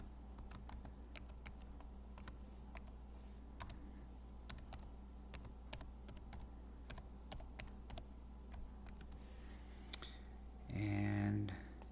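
Light keyboard typing as a password is entered on a computer, a run of soft scattered clicks, fairly faint and steady, ending in a brief louder burst.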